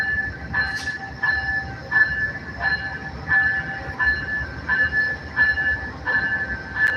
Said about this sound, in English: Here's a train coming in, guys.